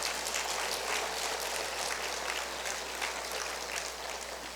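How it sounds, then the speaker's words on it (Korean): A church congregation at a Pentecost Holy Spirit retreat claps together in thanks, a steady dense wash of applause sustained evenly throughout without any speech. "자비로우신 하나님께 감사의 박수 올려드립니다."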